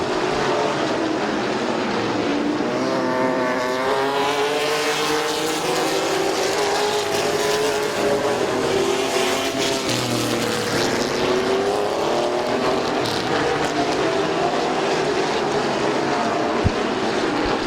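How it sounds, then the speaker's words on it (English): Race cars lapping Midvale Speedway in a green-flag race, a continuous loud engine roar with rising and falling pitch sweeps as cars pass, several engines overlapping. "and we're green, 50 laps of racing"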